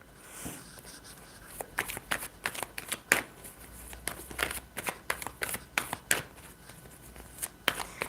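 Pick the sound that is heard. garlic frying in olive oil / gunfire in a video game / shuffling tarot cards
shuffling tarot cards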